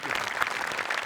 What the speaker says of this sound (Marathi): त्याच्यासाठी पण एकदा टाळ्या वाजल्या पाहिजेत